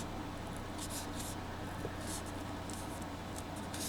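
A steady low hum from an air conditioner and a dehumidifier fills a room, faint and constant, with light scratchy rustling close by.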